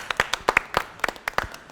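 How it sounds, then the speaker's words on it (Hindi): Studio audience clapping on a Pakistani grocery game show, a short scattered burst of individual claps at close range with uneven rhythm and no talk. "तालियां बजाएं अपने लिए।"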